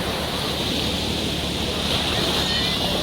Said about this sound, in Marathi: बघा लाटा किती येत आहेत